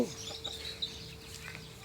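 A chicken clucks softly a few times close by in a village on the Thai-Lao border, with faint outdoor background noise and a steady low hum.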